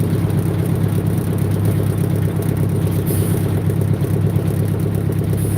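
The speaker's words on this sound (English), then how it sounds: "listen to the sound of my truck" A truck engine runs steadily up close, a loud continuous low rumble with a faint rapid clatter over it and no voices.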